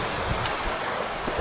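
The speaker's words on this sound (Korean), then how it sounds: "근데 계곡물 소리가 너무 좋긴 하다, 그쵸?" A mountain valley stream on Jirisan runs full after the previous day's rain, giving a steady, close, broadband rush of flowing water with no pauses and no voices.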